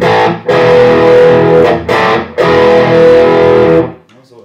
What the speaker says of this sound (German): Gerade ohne Hall klingt es schön trocken.